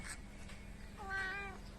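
A pet cat at home gives a single clear meow near the microphone, rising and falling in the middle of an otherwise quiet room.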